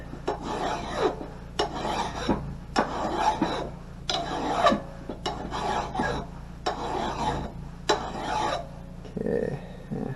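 A hand file rasps along the edge of an axe, giving repeated, evenly spaced scraping strokes, each a harsh metallic grind separated by short pauses, close and clear with no talking.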